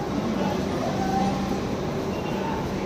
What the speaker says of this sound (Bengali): আর হাওড়া স্টেশন থেকে ট্রেন ছেড়ে দিল।